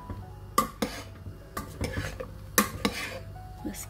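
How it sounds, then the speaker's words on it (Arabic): A spoon scrapes and knocks against a pot of taro soup being stirred, several sharp metallic clinks spaced irregularly over a low simmering background, close and without speech. "هقلب كده واسيبه شويه كده غلوه واحده ولا حاجه"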